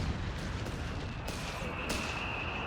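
Gunfire and artillery rumble through a Company of Heroes 3 battle, in a dense, continuous wash of shots and booms with brief louder bursts, and no clear voices.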